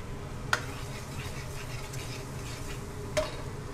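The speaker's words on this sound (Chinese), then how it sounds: "来我们蒜米爆香啊" Garlic frying in a wok makes a soft, continuous sizzle under kitchen background noise, broken by two sharp metallic clicks from a spatula or utensil.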